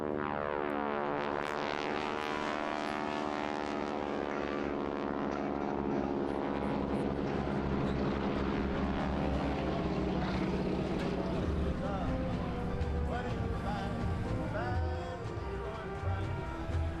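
Propeller training aircraft flying at an air display at the Parco Victory Festival, a steady droning engine and prop hum with shifting pitch holding throughout, fairly loud and continuous.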